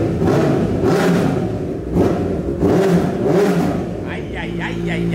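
A Honda CB1000 motorcycle engine revs hard in repeated loud surges and rises that fill the whole stretch, while someone talks over the roar.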